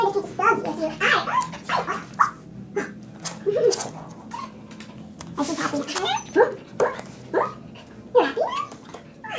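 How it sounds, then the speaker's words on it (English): A small dog whimpers and snuffles in short bursts at close range, mixed with frequent affectionate talk from a person nearby. "Oh, the cutest dog, you're the cutest dog, yes you are."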